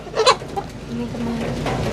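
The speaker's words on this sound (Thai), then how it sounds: "อันนี้นี่ไก่พันธุ์บ่" Chickens cluck at a rural Thai home, where a Vietnamese chicken breed is kept. A short burst of close clucking comes near the start, then fainter fowl sounds continue over low background noise.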